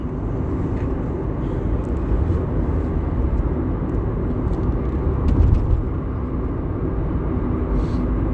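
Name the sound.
car driving on road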